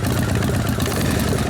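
A rebuilt 1979 Harley-Davidson shovelhead 80ci engine runs at a steady idle, a close, loud, continuous low rumble with a busy rattling texture from the clutch throughout.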